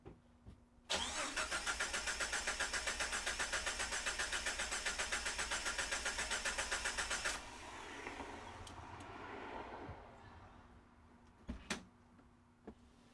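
A steady, rapidly pulsing electric whine from a Jeep TJ Wrangler's electric fuel pump runs for several seconds, then cuts off, leaving faint engine rumble and a few sharp clicks.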